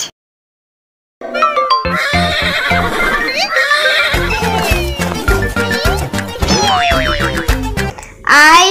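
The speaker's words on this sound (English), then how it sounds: "H for horse." A horse whinnies loudly, with bright rising and falling neighs, playful boing-like tones and rhythmic clip-clop beats, like a cartoon sound effect over music.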